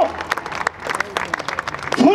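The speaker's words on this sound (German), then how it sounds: "Applaus für Hermann, meine Damen und Herren." A live comedy show crowd claps for Hermann, a steady mid-level patter of many hands that runs throughout, with a voice briefly cutting in near the end.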